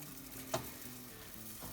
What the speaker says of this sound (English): now that we got our brine boiling away here, we're gonna turn off the burner.